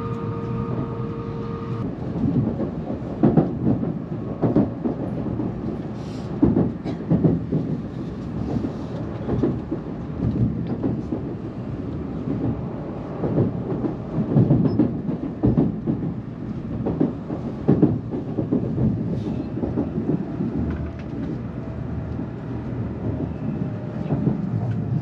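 Steady interior rumble of a Japanese Shinkansen bullet train running from Tokyo to Osaka, with continuous low-frequency rolling noise, faint rhythmic rail clicks and a brief tonal chime near the start.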